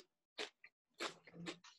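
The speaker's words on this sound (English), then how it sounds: "Stop chewing." Someone chewing nearby: a few short, soft, moist crunching bursts separated by brief silences, faint and close, with no speech.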